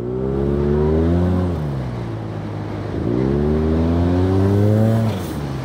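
A Yamaha TMax Turbo scooter with about 100 horsepower accelerates hard: two loud, rising engine climbs, each dropping briefly as the revs fall before pulling up again, close and clear with no talking.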